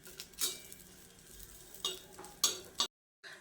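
Green chillies roasting in a dry pan, giving a soft crackle with a few sharp scraping stirs at intervals, ending in a brief silence before faint sound resumes.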